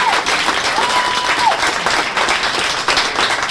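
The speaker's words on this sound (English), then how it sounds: "How about a big round of applause for Kathy?" An audience at a governor's press conference in Taos applauds with steady, dense clapping that lasts throughout.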